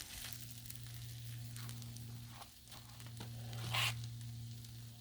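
Food sizzles in ghee on a Blackstone griddle, a steady moderate frying hiss with soft scraping as pieces slide around, rising briefly to a louder burst near the end.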